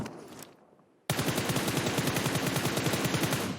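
Rapid automatic gunfire in PUBG Mobile, a sustained burst of evenly spaced shots bursting in loudly after a near-silent pause, with earlier game ambience fading out before it.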